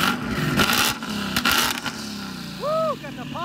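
A twin-turbo Mustang with a Corsa active exhaust and double-helix X-pipe lets out a cluster of sharp, crackling pops, close and loud, with the engine droning underneath.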